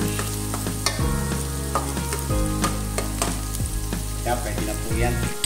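Onions sauté in a pan, giving a continuous close sizzle broken by regular scraping and stirring knocks roughly every second, with no talking over it.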